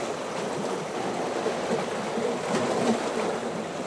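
Waves washing up and lapping over rocks at one end of a beach, a steady broadband wash of moving water with gentle swells, continuous and close, no voices.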